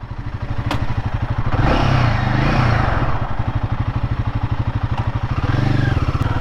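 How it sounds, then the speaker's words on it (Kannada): A Royal Enfield Guerrilla 450 motorcycle exhaust thumping loud and close, a fast even pulse that swells with a blip of revs before settling back to idle. "ಎಕ್ಸಾಸ್ಟ್ ನೋಟ್ ಹೇಗಿದೆ"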